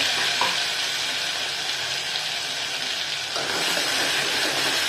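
Cumin, asafoetida and a ground spice paste fry in hot oil with a loud, continuous hissing sizzle that stays close and steady and swells slightly near the end.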